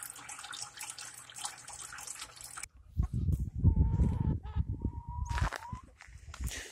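A water container being filled from a tap in a house during freezing winter chores, first a steady hiss of running water, then a cut and a louder gurgling, splashing fill with rising tones.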